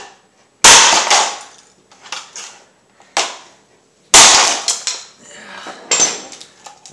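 A Magic Bullet blender base with a grinding fault is whacked, giving several sharp, loud metallic bangs in an irregular rhythm, each ringing briefly before fading.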